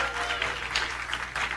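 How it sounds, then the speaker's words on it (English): A brief, steady round of applause from an audience at a property networking event in Soweto, filling the room evenly for just over a second. "Can I at least get a round of applause?"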